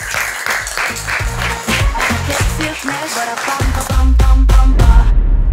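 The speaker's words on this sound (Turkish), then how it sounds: "Murat'a kocaman bir alkış." Audience applause at a Turkish game-show style competition, a burst of clapping with musical accents and voices mixed in, swelling louder toward the end.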